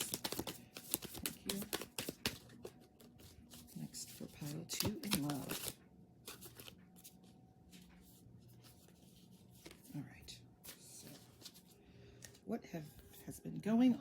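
Tarot cards being shuffled by hand, giving soft papery riffles and rubbing bursts at close range, loudest in the first six seconds and sparser after, with faint talk in the background.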